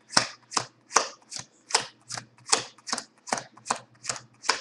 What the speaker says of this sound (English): just start dealing cards here